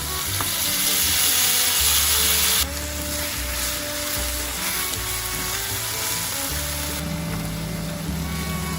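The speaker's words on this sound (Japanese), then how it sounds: "鶏肉に火が通ってきたら、先ほどのナスを加えてさっと炒める。" Chicken and eggplant stir-fry in a pan with a loud, continuous sizzle, broken by scraping and stirring noises throughout, with no speech.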